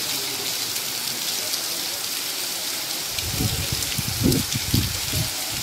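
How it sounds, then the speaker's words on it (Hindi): Heavy rain driven by strong wind, steady broadband hiss throughout, with louder rumbling gusts surging in the second half. "हवाओं के साथ बारिश हो रही है।"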